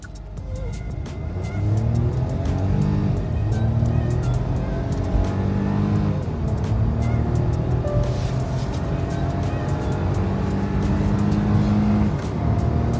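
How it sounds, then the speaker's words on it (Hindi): A Hyundai Venue N Line with dual exhaust drives along, its engine giving a loud, steady drone with small shifts in pitch throughout. "भाई अपन चलाएंगे अब वेन्यू एन लाइन, हाँ ड्यूअल एग्जॉस्ट"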